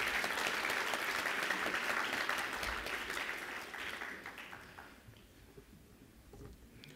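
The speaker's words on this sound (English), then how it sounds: "Please, let's give them all another round of applause." Audience applause at a live plenary event, a dense, steady round of clapping from a crowd that is loud at first and then gradually thins and fades over several seconds.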